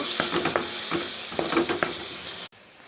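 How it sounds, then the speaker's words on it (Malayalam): Tomatoes, garlic and fried onion sautéing in a pan, with a steady close sizzle broken by repeated stirring scrapes and light clinks of a utensil against the pan, cutting off abruptly near the end. "നമുക്കിതൊന്ന് വാട്ടിയെടുക്കാം. നന്നായിട്ടൊന്ന് വഴണ്ട് വരട്ടെ."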